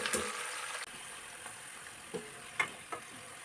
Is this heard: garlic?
yes